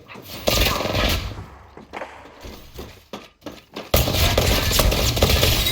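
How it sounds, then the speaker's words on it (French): Bursts of rapid gunfire ring out in a shooter video game, loud close volleys that break off into scattered shots and then return as a dense sustained barrage, with game noise around them. "Je suis sous les tirs."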